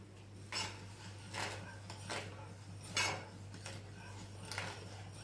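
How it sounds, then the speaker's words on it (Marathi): A spoon stirs a mixture in a pan over a low gas flame, giving repeated knocks and scrapes of metal at an irregular rhythm over a low steady hum. "चमच्यानं आपण छान हलवून घेऊ."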